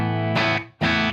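Electric guitar through a Marshall JCM 2000 on the clean channel with gain around 6, two short chords with a slightly broken-up edge ringing close and loud, separated by a brief drop.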